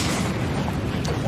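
Repeated Diabolic Edict explosions in the video game Dota 2, a dense, loud rumble of overlapping blasts filling the whole moment, under the excited voice of a live tournament caster.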